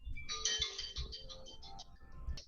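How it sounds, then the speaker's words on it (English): A mobile phone rings with a bright, repeating electronic ringtone melody, close and steady through the whole moment, with no talking over it. "My phone is ringing."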